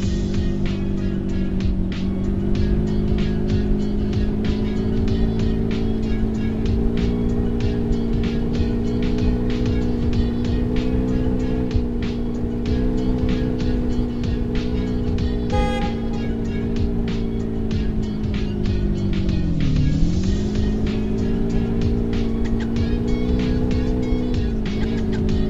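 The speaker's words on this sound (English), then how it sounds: "Drive ice cream bus in level 15." Ice cream bus in a bus simulator driving game, a loud, sustained engine hum with a steady tone that dips briefly in pitch near the end, continuous throughout with no talk.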